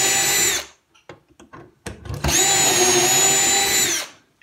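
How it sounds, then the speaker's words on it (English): A power drill bores into a wooden carcass in two loud, close whines, the first cut off early, then a gap of brief clicks and knocks before a longer steady run that stops cleanly. "Keep drilling till you get up to where you stopped on the other side."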